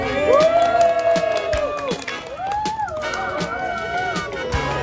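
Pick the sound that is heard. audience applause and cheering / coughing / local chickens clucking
audience applause and cheering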